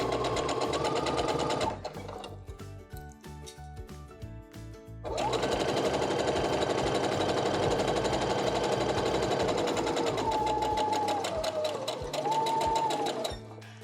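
Sewing machine stitching the seams of a split nine patch quilt block, a fast mechanical whirring in two long bursts with a brief pause between, close and loud.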